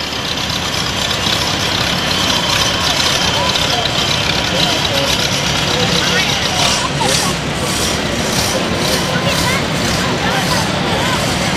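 Restored vintage tractors idle through a Loyalty Day parade in a steady, rumbling, fairly loud engine drone, with voices and crowd chatter over the top.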